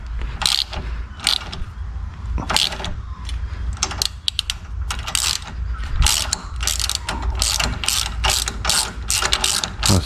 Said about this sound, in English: As for the old Temu ratchet